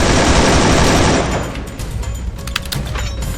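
Rapid gunfire in the mobile battle royale game Free Fire, a loud dense burst of overlapping shots for about a second, then scattered sharper cracks and pops trailing off.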